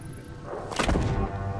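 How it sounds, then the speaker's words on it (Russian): A single muffled blast of a small bomb in Journey To The Savage Planet, a short burst of noise, fairly close and brief, over quiet background hum. "она такая маленькая и так взрывается"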